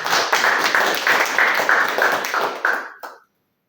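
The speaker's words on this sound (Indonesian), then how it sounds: "Berikan tepuk tangan buat keluarga kita." A church congregation gives a brief round of applause, a dense burst of many hands clapping that tapers off in about three seconds, ending with a few last claps before silence.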